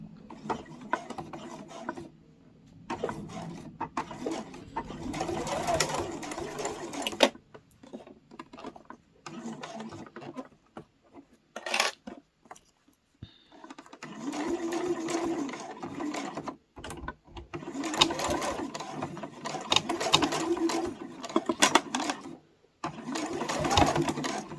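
A sewing machine stitching a mini boxed pouch, running in several bursts of rapid, rattling stitching separated by quiet pauses and a few short runs, close and moderately soft, with no talk.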